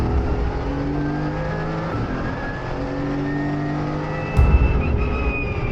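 A Mercedes AMG GT4 race car drives on a track, its engine droning loudly and steadily with rising and falling pitch through gear changes, and a sharp burst of revving near the end, heard from inside the car.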